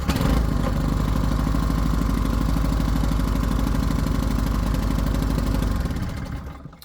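A petrol generator engine runs steadily close by with a rough, slightly uneven putter, loud and continuous for several seconds before it fades away near the end.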